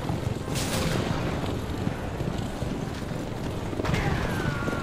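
Horse hooves clip-clop in the Assassin's Creed Revelations video game, a steady rhythmic clatter under a constant rushing wind-like background, with faint whooshes.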